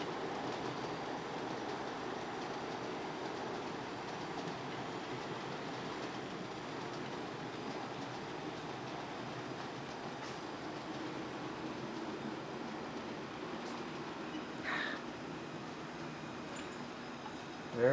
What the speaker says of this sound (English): that's a pretty nice long coal train